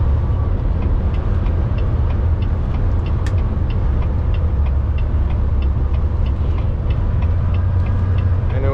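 An Amazon truck takes a highway exit, its engine a constant low rumble with road and wind noise droning steadily throughout at close range.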